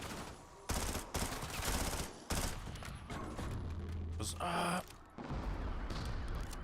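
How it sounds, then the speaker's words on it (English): Bursts of PPSh submachine gun fire from Call of Duty Black Ops Cold War, loud and rapid, come in several separate volleys mixed with other game noise and a continuous bed of in-game sound. "PPSH goes."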